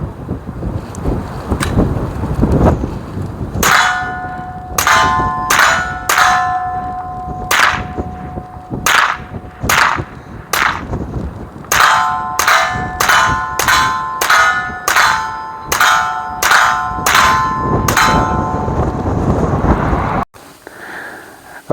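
Rapid series of sharp gunshots from a Sig P322 rimfire pistol firing Aguila Super Extra hollow points outdoors, about a dozen-plus cracks in quick strings with ringing metallic tails, under steady wind noise on the microphone.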